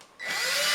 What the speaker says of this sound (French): On visse les pattes.